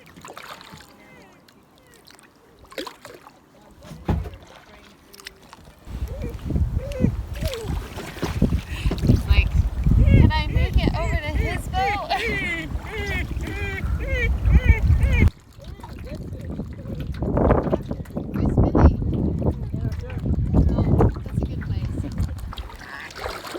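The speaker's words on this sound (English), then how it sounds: "We are out kayaking" Paddle strokes and water splashing from a kayak out on the water near a shore, heard close up under wind buffeting the microphone, with people talking over it.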